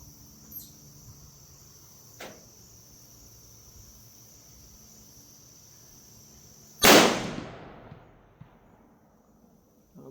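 A single loud rifle shot from a Remington 760 firing 180-grain ammunition cracks out of a quiet outdoor background and trails off in a decaying echo, with faint insect buzz around it.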